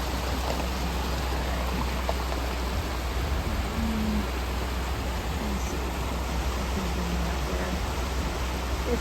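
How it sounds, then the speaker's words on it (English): Heavy rain pours steadily near a waterfall on a washed-out driveway, a loud continuous hiss with no break for nine seconds. "We have had so much rain."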